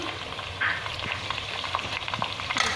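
One kilo of chicken sautés in a hot pan, giving a steady close sizzle with occasional scraping stirs and no talk.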